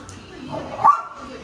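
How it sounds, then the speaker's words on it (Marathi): A puppy gives a single short yip-like bark close by, very brief, over soft background noise. "थांबा बाहेर बसून तुम्हाला दाखवतो टायगर पिल्लू."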